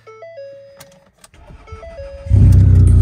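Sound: Ford Escape engine starting and revving loudly

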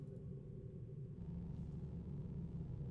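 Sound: distant explosions rumbling in video game Baldur's Gate II

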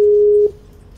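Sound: loud telephone busy signal

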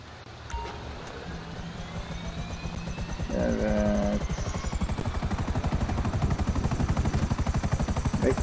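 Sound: helicopter in the video game Grand Theft Auto Online

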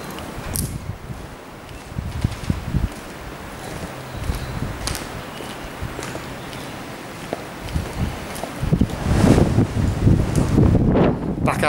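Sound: wind outdoors

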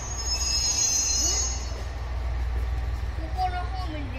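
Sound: electric train arriving at the platform, wheels squealing

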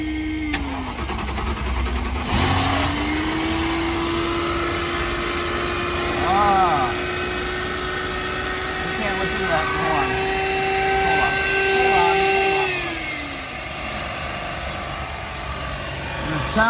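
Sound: 2010 Mercedes E550 V8 engine starting and running

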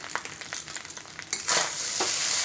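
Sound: stirring fried rice in pan with spices

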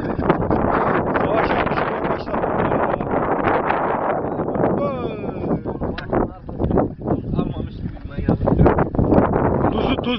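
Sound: wind blowing into the microphone by a castle, fishing

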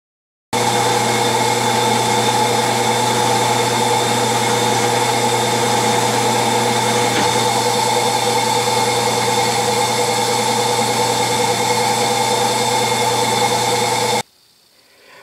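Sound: lathe single-point threading a mill arbor

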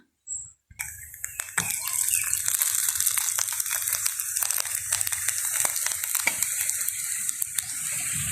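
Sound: village bread roti being turned over while cooking

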